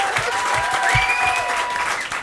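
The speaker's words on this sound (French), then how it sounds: "on applaudit Christophe Lambert" A studio audience applauds in a French radio-television show, a short burst of dense, even clapping close to the microphone, mingled with a faint whistle-like tone.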